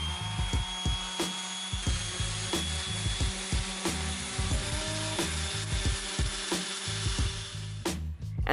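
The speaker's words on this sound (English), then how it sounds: "I sanded them to prep them for stain." Hand sanding of small wooden model house porches before staining, a steady scratchy rubbing with repeated short strokes in an even rhythm, close and moderately loud, with no talking.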